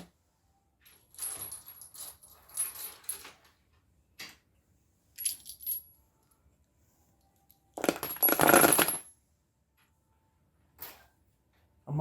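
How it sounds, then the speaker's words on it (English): Coins dropped in with ammunition brass and pecan shells for cleaning clink and jingle in several short metallic bursts, with a louder, denser clatter near the end and quiet gaps between, no talking. "I'm also going to throw in some coins."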